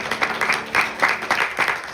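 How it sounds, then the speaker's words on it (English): An audience at a Navratri night service in a Hindu temple in New York applauds, with steady clapping that swells in rhythmic bursts; no voices stand out. "Give Grandfather a round of applause."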